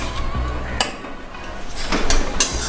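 Spices being stirred and fried in a cooking pot for a fish curry with potato and eggplant, with a faint sizzle under clinks and scrapes of a metal spoon against the pot, a few sharp knocks standing out.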